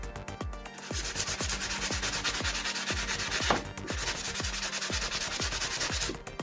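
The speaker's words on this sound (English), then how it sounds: "you can use one of these little sanding blocks" Rhythmic scraping of a small sanding block across a metal tack hammer, steady back-and-forth strokes about twice a second, close and continuous.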